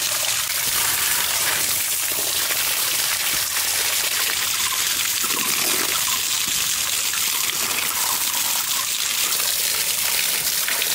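Two white taro plants being washed in muddy water outdoors: continuous close splashing, trickling and sloshing of water, steady and fairly loud throughout.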